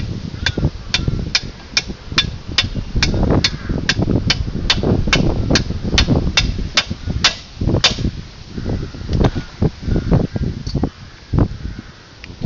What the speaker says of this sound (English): We're going to just tap the ball joint from the back gently into the hammer.